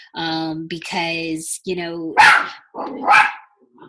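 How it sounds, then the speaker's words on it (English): A pet dog barks loudly and close by indoors, about five sharp barks in quick groups, with a brief spoken word between them. "that was my dog"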